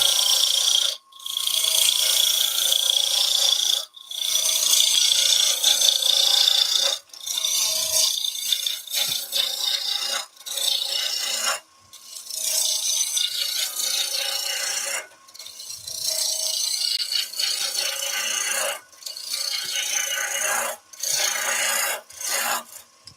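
A wood lathe turns driftwood while a tool scrapes and rasps against the spinning piece, in long bursts of coarse friction noise broken by short pauses, close and steady.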